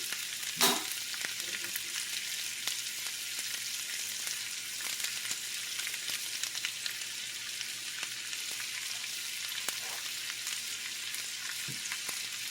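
Onions for caramelizing fry in a big 12-inch skillet, giving off a steady, bright sizzle with a few soft taps of a utensil scattering them, and no one speaking.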